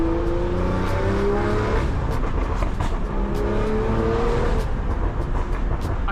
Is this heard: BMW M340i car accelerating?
yes